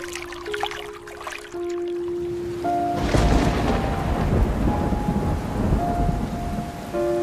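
Heavy rain pours steadily in a horror cartoon scene as a loud thunder crash breaks in partway and rumbles on beneath the downpour, with sustained eerie tones over the storm.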